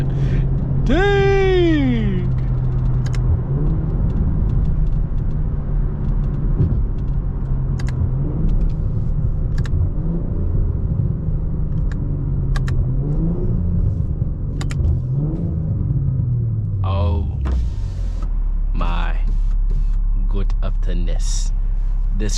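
A BMW M340i with a catless downpipe revs hard and loud, climbing and falling in pitch with rumbling exhaust, revving several times and ending in a steady drone.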